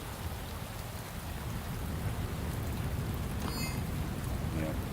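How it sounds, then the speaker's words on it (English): Steady rain falls in a city at night in the video game Shadows of Doubt, a continuous dense hiss with no breaks, with faint brief tones near the end. "Oh, it's raining again."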